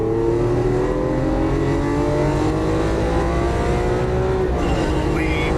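Lamborghini Aventador LP700-4 accelerating hard on a Las Vegas race track, a loud rising V12 engine roar heard from inside the car, pitch climbing steadily and briefly dropping at a gear change.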